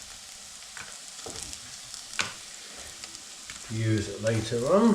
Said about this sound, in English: So that's the paneer toasted on all sides.